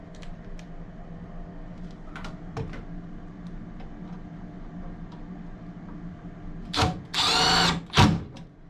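A power drill drives screws into the cover of an LG concealed duct unit during an HVAC service call, with a couple of short whirring bursts near the end over a steady low machine hum.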